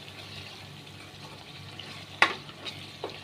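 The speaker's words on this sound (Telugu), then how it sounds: "బాగా కలుపుకొని కారం కూడా బాగా మగ్గిపోవాలండి." Tomato and chili powder cooking in a pan for a fish curry, giving a low, steady sizzle broken by a loud scrape of a stirring spoon and a couple of lighter taps after it.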